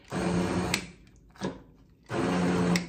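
Hot peppers being chopped in an electric food chopper, two long whirring motor bursts with a short pulse between them, loud and close with no talking.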